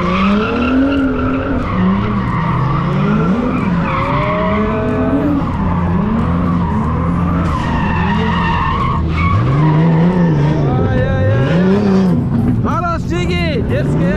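BMW cars drifting at Bimmer Fest 2023 produce continuous loud tire squeal and wailing engine revs that rise and fall in waves, with a voice speaking over the noise throughout.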